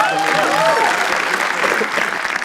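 Audience at a comedy roast battle show claps loudly and continuously, with a voice heard briefly over the applause at the start.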